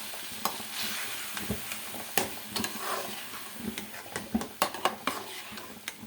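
Curd goes into seekh kabab masala cooking in a pan, bringing loud sizzling and frying alongside repeated scraping stirs and utensil clinks against the metal, heard up close.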